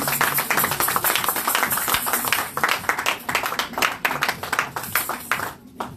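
A Sunday church congregation claps and applauds together, a dense stream of many hands that is loud at first and then thins into scattered claps before fading near the end.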